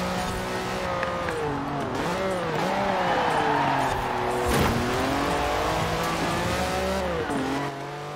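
In Forza Horizon 4, a race starts among German and Italian cars built up to the 1980s, with a loud, continuous engine roar that climbs and dips in pitch through revs and gear changes, close and steady throughout.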